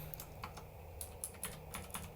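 Typing on a Ducky ONE mechanical keyboard with Cherry MX Blue switches produces a quick, irregular run of crisp, close clicky keystrokes with no voices over them.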